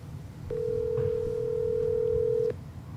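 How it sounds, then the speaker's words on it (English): A single steady electronic phone tone sounds for about two seconds, loud and clear against faint room noise, with no one talking over it. "Pick up the phone, please."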